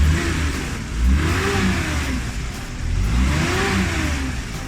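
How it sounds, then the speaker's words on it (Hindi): Petrol engine of a Suzuki Bolan with a fuel pump starting problem revs up twice in steady swells, each rise climbing in pitch and falling back, close and loud with no voices. "गाड़ी स्टार्ट होगी"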